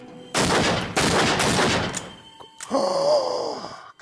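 Loud gunshots ring out in the horror game Until Dawn from a fake gun loaded with blanks, a few sharp close blasts in quick succession, then a thud and a strained groaning sound.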